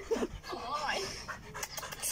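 A lively dog pants in quick, breathy bursts with a faint whimper, mixed with a person's voice nearby.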